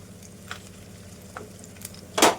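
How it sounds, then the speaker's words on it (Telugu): Curry leaves fry in hot oil in a pan for a chicken buttermilk curry, a soft steady sizzle close by broken by a few faint crackles and a louder spitting burst near the end. "ఇవి కొంచెం గోల్డెన్ కలర్ వచ్చే వరకు ఫ్రై చేసుకుందాము."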